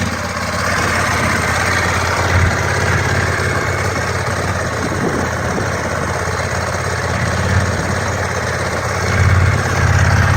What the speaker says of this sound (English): all we do is just close the throttle and she's back to idling.